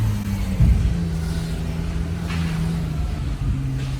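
A Ferrari 812 GTS pulls into Place du Casino in Monaco, its engine a deep steady drone at low speed with a brief throttle blip, close and continuous, no talk over it.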